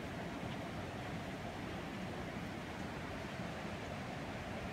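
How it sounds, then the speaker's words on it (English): A creek flows through a snowy redwood forest, giving a steady, broadband rushing wash of water that stays even and fairly soft throughout, with no voices. "And to the soothing sound of the creek."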